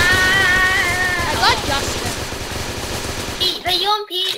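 UMP submachine gun fire in the Roblox game Underground Wars, a rapid rattling burst of shots, loud and up close, with a young voice talking over it and brief tonal game sounds near the end.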